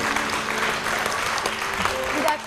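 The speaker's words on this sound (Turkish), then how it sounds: "Bir alkış alabilir miyiz?" Steady applause from a group of people, a dense wash of clapping that holds evenly throughout with a few sharper claps near the end.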